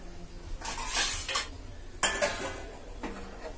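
Metal cookware clatters as a lid is set over a cooking pot in a home kitchen, with several clinks and scrapes in two bursts, close and fairly quiet.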